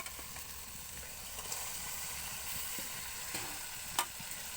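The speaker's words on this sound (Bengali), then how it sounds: "এরপর দিয়ে দেবো নুন হলুদ দিয়ে মেখে রাখা চিংড়ি মাছগুলো" Shrimp coated in salt and turmeric frying in a cooked spice paste, a soft continuous sizzle with occasional stirring scrapes and a small clink, fairly quiet and close.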